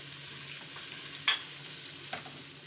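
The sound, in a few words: stirring spices in a cooking pan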